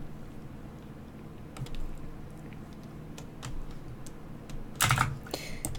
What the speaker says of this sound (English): my loud ass keyboard